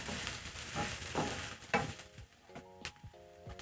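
Onions cooking soft in oil left over from frying sausages, with a close, bright sizzle and repeated scrapes of a spatula stirring them, then a softer spitting crackle as a faint tonal hum sounds in the background.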